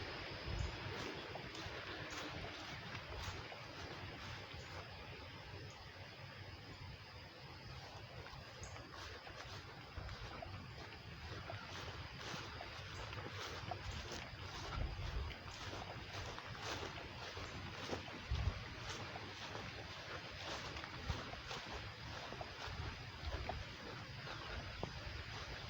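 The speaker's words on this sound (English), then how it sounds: "Getting windy." Wind blows steadily through an open nature study area in a national park, a continuous broad rush with gusts buffeting the microphone, no voices.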